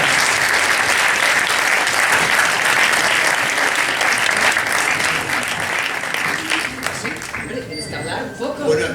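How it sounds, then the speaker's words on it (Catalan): Film festival audience gives loud, sustained applause for actresses, a dense roar of clapping that thins out near the end as a voice begins speaking. "Un fort aplaudiment."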